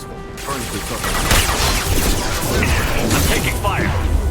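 Gunfire in the video game Mass Effect 2, a dense, continuous barrage of shots and impacts with whooshing bursts, loud and close throughout, with sounds of battle layered over it.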